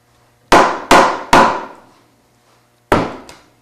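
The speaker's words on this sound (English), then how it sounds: "Rubber mallet." A rubber mallet strikes a loose wooden chair joint in three quick, loud, close knocks, each ringing out briefly. After a short pause comes a fourth knock, followed by a fainter tap.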